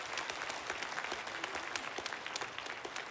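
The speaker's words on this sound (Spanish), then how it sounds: "Demos grandes aplausos de gloria a Dios por guiarnos en el evento de hoy." A crowd at a church assembly event applauds steadily for about three seconds, a dense, even patter of many hands at moderate volume with no voices on top.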